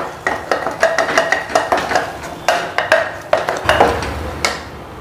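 Paneer peas masala being sautéed with spices and salt in a pan: a brisk, steady run of metal utensil scrapes and clanks against the pan over a faint sizzle, close up.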